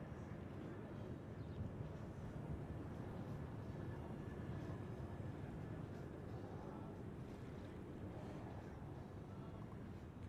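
A Southwest airliner taking off from runway 1 at Reagan National Airport, a steady distant low jet roar that holds at an even, faint level throughout.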